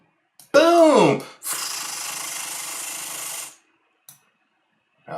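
A machine counting $100 bills riffles through a stack with a steady, papery whirring rasp lasting about two seconds, preceded by a short vocal sound and followed by a brief click.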